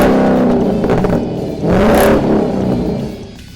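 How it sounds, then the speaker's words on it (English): A 2015 Ford Mustang with a Cervini's side exhaust system revs loudly up close, rising to a roar, dipping briefly, then surging again before easing off. "One of the more unique exhaust systems we've done lately is the side exhaust system from Cervini's."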